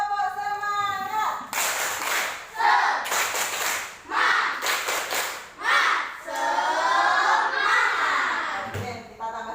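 A class of children repeats a rhythmic spirit clap in a schoolroom, patterned bursts of hand claps interleaved with group chanting and voices, close and energetic, ending with a brief thump.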